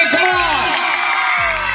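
A loud, dense crowd cheers and whoops at a family carnival in Landhi, with shouting voices and yells forming a continuous roar close by throughout.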